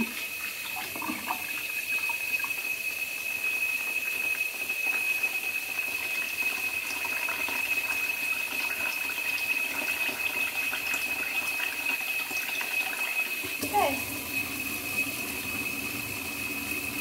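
Steady running water pours over chicken in a baking pan for a long stretch, a constant rushing hiss with a faint high whine underneath, shifting in tone near the end.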